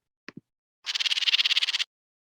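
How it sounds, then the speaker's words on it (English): An angry house wren gives a harsh, rapid chatter: about sixteen buzzy pulses in a steady run lasting roughly a second, close and fairly loud, after two short faint clicks. "when house wrens get angry and make a sound like this"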